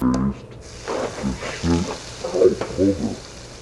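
Butter being whisked into a hot beer reduction sauce in a pan, a close sizzle and stirring scrape mixed in beneath someone talking throughout.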